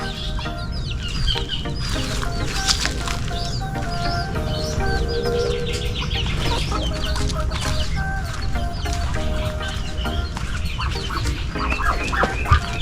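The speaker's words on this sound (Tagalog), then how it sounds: "ito po yung manok kong native may sisiw" Native hens cluck and chicks peep continuously in a busy small farm barnyard with ducks, with occasional louder squawks and quacks over a steady background din.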